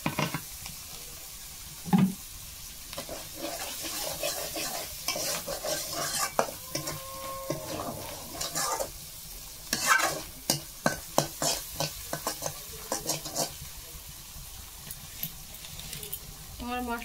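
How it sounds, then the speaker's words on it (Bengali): Spice masala being stirred and fried in a pan for a crab and bamboo shoot dish, a spoon scraping in rhythmic strokes over a steady sizzle, with a few clattering knocks and some running water from a tap. "মশলাটা কিন্তু ভালো করে কষিয়ে নিচ্ছি"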